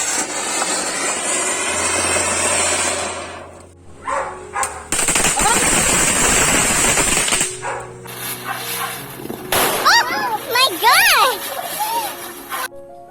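Diwali firecrackers bursting outdoors in a rapid, crackling string of loud bangs, with whistling streaks near the end and voices in the background.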